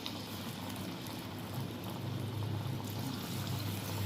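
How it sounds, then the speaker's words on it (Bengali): Marinated chicken pakoras frying in hot oil for chili chicken, a steady close bubbling sizzle with a low roiling rumble that holds throughout. "এবার ওইটার একটু ভেজে নিই পকোড়া।"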